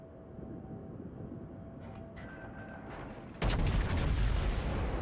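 A battleship's main guns fire a salvo in World of Warships, a sudden heavy booming blast that erupts over low rumbling ambience and rolls on loudly to the end.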